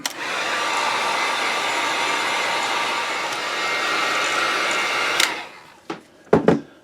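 A hair dryer blows steadily and loudly for about five seconds while drying a freshly painted shad wakebait, then cuts off, followed by a few handling clicks and knocks.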